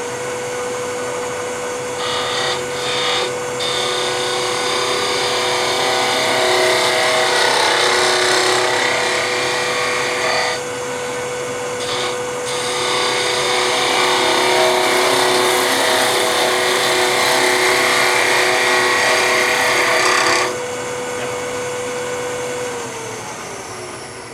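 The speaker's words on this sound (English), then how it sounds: "Now, I cut with my skew high on the piece" A skew chisel cuts wood on a lathe, held high on the workpiece: a steady whirring hum with a hissing, scraping cutting noise that drops out briefly a few times and then resumes, running alone without talk.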